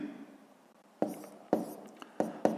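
A pen writes out a sixth-grade math solution on paper in short, close strokes, four or five crisp scratches spaced unevenly across a quiet room with no talking.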